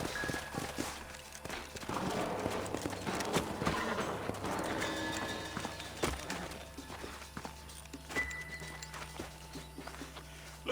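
Horse hooves in the video game Red Dead Redemption clip-clop in an uneven walking rhythm over a low background rumble, close by and steady throughout.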